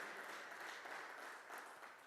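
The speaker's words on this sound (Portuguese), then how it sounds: "Aplauda ao Senhor pela sua palavra" A church congregation applauding in praise, a faint, steady wash of many hands clapping together for about two seconds, distant and even in level.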